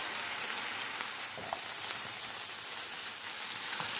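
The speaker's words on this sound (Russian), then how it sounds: "Прошло 5 минут, как все овощи жарятся" Steady, hissing sizzle of vegetables frying in a pan, with a few small pops, continuous and fairly quiet.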